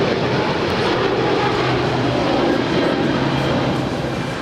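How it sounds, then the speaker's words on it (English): A two-year-old British Airways Airbus A350-1000 departs Los Angeles LAX for London Heathrow with a loud, continuous roar of jet engines that holds steady and close throughout, with no voices. "that is British Airways Flight 282 departing to London Heathrow. It's a 2-year-old Airbus A350-1000"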